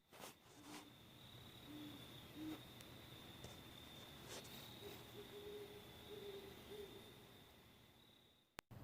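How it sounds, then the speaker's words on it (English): Owls hoot softly in the distance at night in the woods of Oak Mountain State Park, a few low repeated calls over a steady chorus of crickets and insects. "I got to hear a couple owls out last night. They were hooting and hollering"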